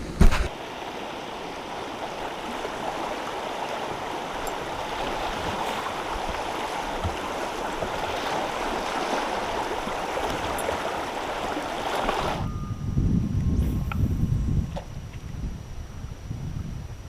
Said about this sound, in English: So anyways, I'm about to hit some rapids.